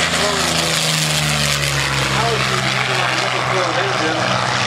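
A P-40 Warhawk warbird flies over an air show on the beach, its piston engine and propeller giving a loud, steady droning roar with a slowly shifting pitch, under announcer talk.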